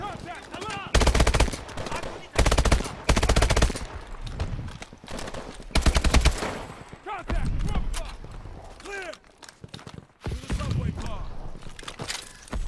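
Gunfire from a four-shot weapon in the Call of Duty: Advanced Warfare campaign, with loud bursts and rapid volleys of shots separated by short pauses amid game effects.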